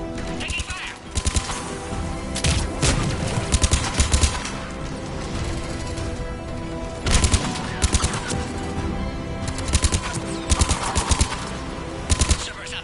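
Mass Effect 3 combat as Cerberus forces attack outside a pod: bursts of game gunfire and rapid automatic shots crackle repeatedly across the scene, with dense layered battle noise and occasional louder volleys throughout.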